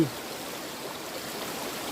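Forest waterfall and stream in the Veerappan forest area, a steady broad rush of flowing water heard close and continuous, with no voices.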